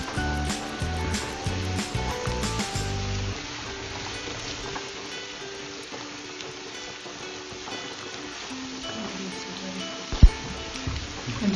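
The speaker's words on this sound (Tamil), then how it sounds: "ஆனியன் நல்லா ஃப்ரை பண்ணணும், ப்ரௌன் கலராக வர்றது வரைக்கும் ஃப்ரை பண்ணிகிட்டே இருக்கணும்" Chopped onions frying in a pan for an egg roast over a medium flame, a steady dense sizzle with occasional stirring clatter, close up, and one sharp knock near the end.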